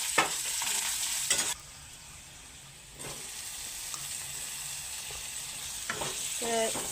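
Vegetables fry in a pan with salt and turmeric, a steady broadband sizzle broken by scraping stirs and a few spatula knocks against the pan, with no talking.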